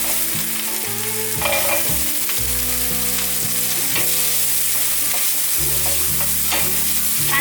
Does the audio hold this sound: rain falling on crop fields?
no